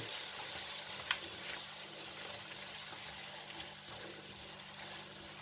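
Vegetables for an Asian-style soy sauce pasta cook in a pan, giving a soft, steady sizzle and gentle bubbling with a few faint clinks, close by but quiet.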